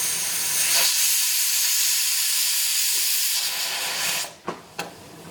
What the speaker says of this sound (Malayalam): ഇപ്പോൾ കുക്കറിൽ നിന്ന് ഒരു വിസിൽ വന്നിട്ടുണ്ട്.